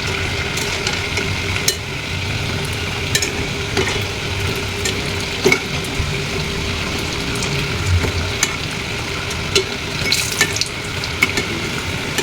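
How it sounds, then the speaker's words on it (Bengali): Coconut-filled puli pitha dumplings fry in hot oil on low heat. A steady bubbling sizzle runs throughout, broken by sharp pops and the occasional clink of a utensil, with no talking. "এরপর আমি এপিট ওপিট করে ভালো করে ভেজে নিব।"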